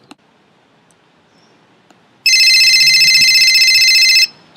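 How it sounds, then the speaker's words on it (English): A telephone rings once with a loud, buzzing electronic trill lasting about two seconds after near silence, then stops. "It's the phone."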